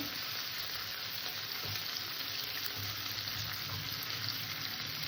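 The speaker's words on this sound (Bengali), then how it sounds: "আদা রসুন বাটাটাকে পেঁয়াজের সাথে একটু কষে নেবো" Ginger garlic paste sautés with fried onions in a pan, a constant close sizzle and crackle of hot oil throughout, with no voices.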